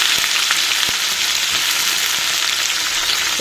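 Sliced ivy gourd pieces fry in a pan over tempering seeds, giving a steady, dense sizzle that stays even and close throughout, with a few faint ticks from the pan.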